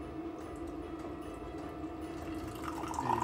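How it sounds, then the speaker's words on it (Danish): Hot coffee poured into a cup at a Christmas-time table, a steady close-up liquid stream running continuously and swelling slightly toward the end, heard alone without talk. "Så kan jeg lige hælde op for dig."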